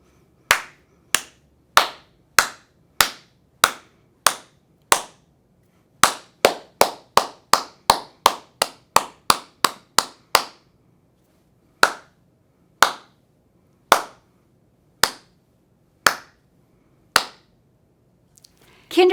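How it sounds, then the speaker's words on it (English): Hands clap a steady beat in a quiet kindergarten music lesson: sharp, close, isolated claps at an even pace, a quicker run in the middle, then a slower spaced series. "Match my beat as I clap."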